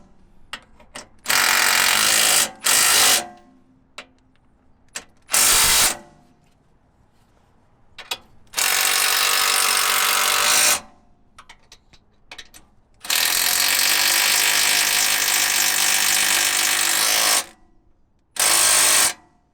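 Ratchet tightening bolts on the rack and pinion of a BMW F10 528i with the N52 engine: several long, fast clicking bursts, loud and close, separated by quiet gaps with faint clinks.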